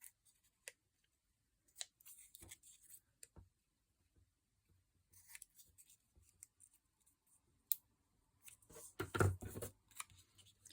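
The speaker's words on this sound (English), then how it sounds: "I'm all about trimming today, fussy cutting." Sharp, intermittent snips of scissors fussy cutting and trimming paper for a handmade junk journal, close and quiet, with scattered paper rustles, a louder cluster of cuts near the end, and no talking.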